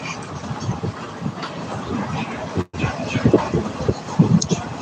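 Riding inside a moving train, with a steady rumbling rattle and scattered clicks close around, and voices briefly audible in the carriage.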